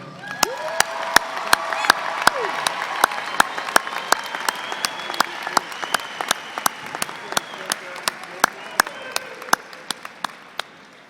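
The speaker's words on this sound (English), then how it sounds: "Can you please join me in a round of applause?" Graduation audience at a December university commencement ceremony breaks into sustained applause, a full crowd clapping steadily, with sharp individual claps standing out near the front and a few cheers and calls rising over it.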